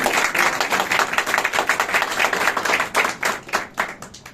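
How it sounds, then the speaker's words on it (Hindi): A church congregation claps together after a sermon in a Hindi-language Christian service, a dense, steady burst of many hands filling the room for about four seconds with no talk over it. "आप अपने लिए ताली बजा सकते"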